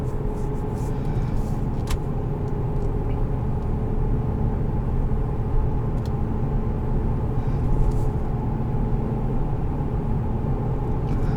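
A 2018 Chevrolet Colorado ZR2 with a V6 engine heard from inside while driving, a steady low engine rumble and road drone throughout, with no talking.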